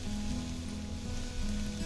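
Carrot halwa fries in ghee in a pan as sugar goes in, giving a steady close sizzle with a low hum underneath and no voices.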